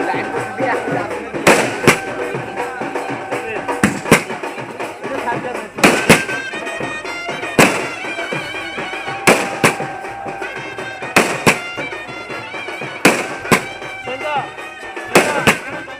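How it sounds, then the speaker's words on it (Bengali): Firecrackers burst during a wedding procession, a series of loud sharp bangs spaced every second or two over a busy outdoor background of music and crowd chatter. "ওদিকে ভাইরা বাজি ফাটানো শুরু করে দিয়েছে"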